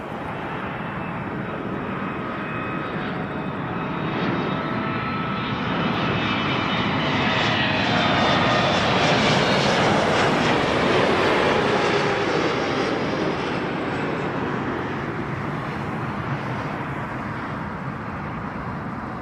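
An airplane at Toronto Pearson Airport produces a continuous broadband engine roar that builds to a peak around the middle and slowly fades, steady and fairly close throughout.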